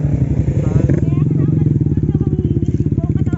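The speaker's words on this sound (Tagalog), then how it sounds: "bagong-bago pa naman itong motor mo" A brand-new Honda Winner X150 motorcycle still in its break-in period runs with a steady, close engine drone that stays loud throughout, while people talk over it.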